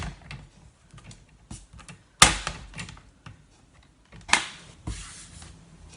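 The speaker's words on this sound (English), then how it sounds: "So if I bring my paper trimmer in, and just trim these down" A paper trimmer slices cardstock on a craft table, giving two sharp, close cutting swipes a couple of seconds apart, with faint handling clicks and rustles in between.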